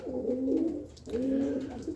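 Racing pigeons coo close by, two drawn-out throaty calls in succession with a brief gap between them, with no voices over them.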